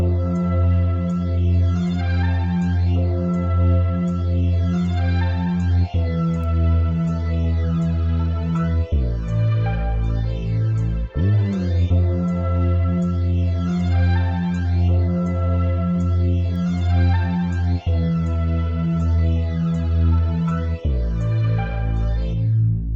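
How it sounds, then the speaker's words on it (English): A bass progression plays together with a looped music sample, steady and continuous, with the bass notes shifting every few seconds under a dense harmonic layer; no voices. "So let me just play you the bass with the sample."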